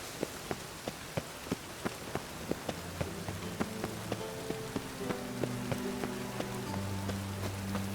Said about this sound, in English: Rain like this would fetch a fortune in Zerrikane.